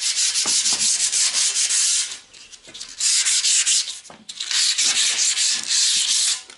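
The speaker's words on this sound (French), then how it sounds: "Bon alors, brossage de certaines pièces." Metal parts from a Citroën Traction 11B are brushed in long, harsh scrubbing strokes, in three loud bursts with short pauses between them and no voices.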